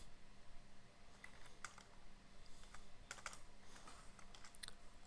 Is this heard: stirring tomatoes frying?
no